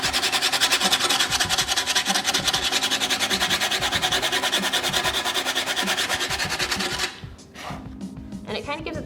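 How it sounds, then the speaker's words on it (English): Sandpaper lightly rubs over painted pallet wood in a steady, dense scratching stroke that stays close and even, then drops off near the end into a few lighter, broken strokes. "you're gonna take your piece of sandpaper that you got in your kit, and you're just gonna lightly sand over the paint"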